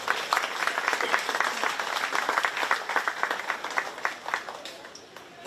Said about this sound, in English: I want to give all the kids another round of applause